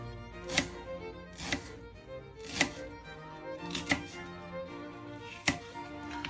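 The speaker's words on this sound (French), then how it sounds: "je vais couper mon oignon en petits morceaux" A knife chops a fresh onion into small pieces on a board, about six distinct sharp cuts spaced roughly a second apart, close and clear over a quiet background with no talk.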